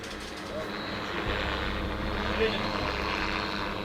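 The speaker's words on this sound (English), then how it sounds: "Richard, I'm pretty sure I can hear a drone." A Russian drone drones steadily over a forest thicket, a continuous broad engine hum that swells slightly without clear approach, with faint voices underneath.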